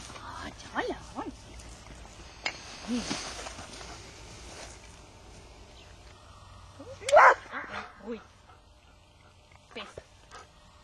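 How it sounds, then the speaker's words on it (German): A dog gives a few short barks and yips, with one loud, sharp burst midway, amid scattered encouraging talk from a person. "Oh, toller Hund!"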